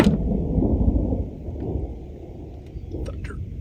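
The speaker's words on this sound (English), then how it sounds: "It's thundering." Thunder rumbles low and steady during a light rain shower at a campsite, a deep rolling sound that fades slightly midway, with soft patter and small ticks of sprinkling rain.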